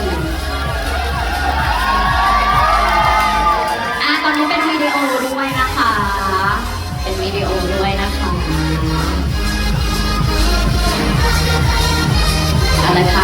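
A fan crowd cheers and shouts at a Mala Station promotional event with Daou, a dense, loud, continuous roar of voices with whoops and possible clapping lasting throughout.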